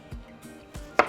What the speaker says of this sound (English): we can chop our strawberries. Just cut them in half